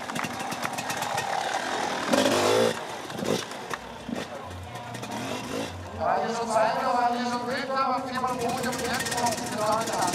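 A 150-plus kilo extreme enduro motorcycle at the Erzberg Rodeo 2012 Hare Scramble revs in rising and falling bursts, moderately distant, under continuous commentary.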